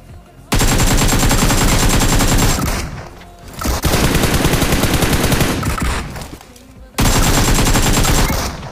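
Rapid automatic gunfire in the PUBG battle royale mobile game, loud bursts of shots in close succession with brief pauses between, dense and continuous without talk.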